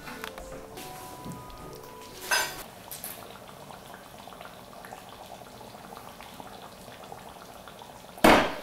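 A pot of food for a Pakistani-Indian dish simmers on the stove, a faint steady bubbling hiss with a couple of brief clinks of a pot or utensil.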